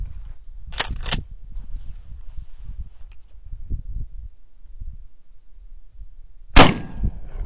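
Two sharp shotgun blasts of number 8 shot at a Baofeng UV-5R radio ring out close and loud, followed by quiet rustling and a third sharp report near the end.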